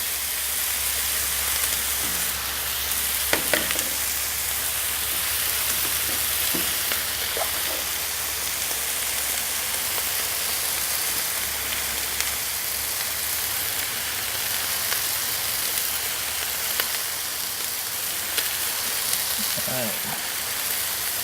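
Pork steaks and asparagus sizzle on a Camp Chef FTG600 flat top griddle outdoors, a constant loud frying hiss like rain with occasional clinks and scrapes, a voice speaking over it.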